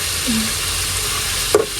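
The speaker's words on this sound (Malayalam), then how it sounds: "ത്രീ സിക്സ്റ്റി ഉള്ളി വഴറ്റിക്കൊണ്ടിരിക്കുന്നു" Steady sizzling of onions sautéing in a pan, with a faint scrape of stirring and a brief clink near the end.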